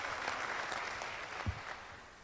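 Faint, distant clapping from a church congregation during a fundraising service for a new building, thin and brief with a soft thump near the end.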